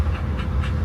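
A dog pants close by in quick, even breaths, a short rhythmic huffing over steady outdoor background noise, with no talking.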